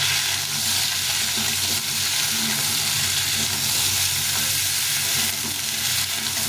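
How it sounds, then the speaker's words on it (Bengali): Potato and cauliflower fry in a pan, giving a dense, steady sizzle and crackle of hot oil, close and loud, with soft stirring noises and no voices. "এটা একটা ফুলকপি আছে মাদুরি সাইজে ভালো করে ভেজে নেব"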